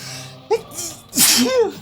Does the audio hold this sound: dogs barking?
no